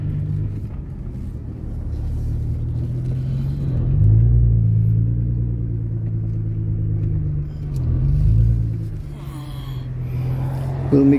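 A 2010 Nissan GT-R R35 engine rumbles steadily as the car downshifts, with two loud rev blips surging and falling back to a deep idle-like drone.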